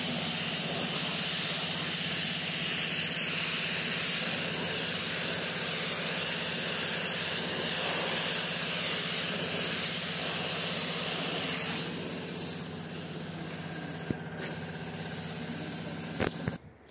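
A spray gun coats the rusted steps of a Zetor 6911 tractor with paint, giving a continuous loud, even hiss that eases off near the end before stopping, with no talking.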